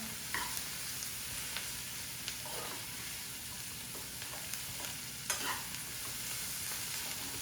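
Fennel seeds frying in hot oil over a raised gas flame for saunfia bhindi, a steady close sizzle and crackle with occasional sharper pops and the clink of a spoon stirring.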